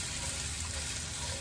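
Food frying in a pan, a steady close hiss of sizzling that runs evenly and alone throughout.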